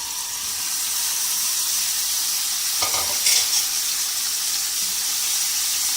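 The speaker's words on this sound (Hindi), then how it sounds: "ये मैंने पैन में 1 टेबल स्पून ऑयल डाला है और अब हम इसमें ये मैरिनेटेड जो ड्रम स्टिक्स हैं वो डाल देंगे।" Marinated chicken drumsticks fry over high heat in a tablespoon of oil in a pan, giving a steady, close hiss of sizzling with a few brief louder crackles and spatters partway through.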